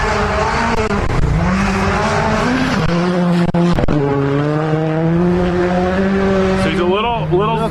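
A rally car at Olympus Rally slides sideways through a corner, its engine revving hard and loud with rising and falling pitch, a sharp drop and recovery midway, and a closing burst of fluctuating revs.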